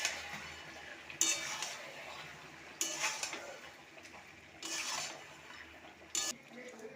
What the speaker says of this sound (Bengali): ঢাকনাটা খুলে আবার একবার নাড়িয়ে দেবো